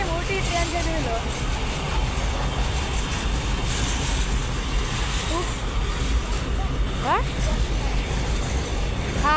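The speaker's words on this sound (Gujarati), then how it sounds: "આ જો ટ્રેન જતી રહી છે" A train runs along a railway track, making a loud, steady broadband rumble that continues unbroken from start to finish, with people talking over it.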